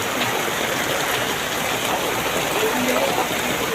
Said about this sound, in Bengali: এমন বৃষ্টি হচ্ছে রাস্তায় উপর দিয়ে পানি যাচ্ছে, দেখতেই পাচ্ছেন